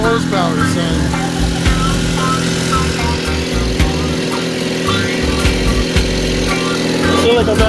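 A small 4 horsepower outboard motor runs steadily at modest revs, a loud continuous buzzing drone close by, with people talking over it.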